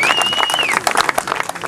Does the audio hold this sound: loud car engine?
no